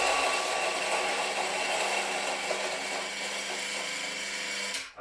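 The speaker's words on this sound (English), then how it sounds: "Let me grind out the rest that's in here." Electric coffee grinder grinding coffee beans, a steady, loud whirring buzz that runs nearly the whole time with no speech, then cuts off abruptly at the end.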